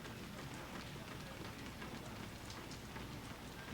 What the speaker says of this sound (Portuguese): Tá chovendo, tá bom de dormir.